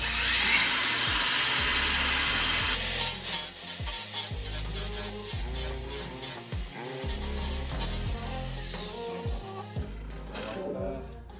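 A cordless angle grinder with a cleaning wheel grinds and scrubs away excess material, a loud steady whine broken by rhythmic bursts of pressure and release as the wheel works the surface.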